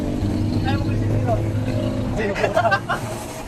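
Motorcycle passing by, an engine drone rising and fading under nearby chatter from people talking.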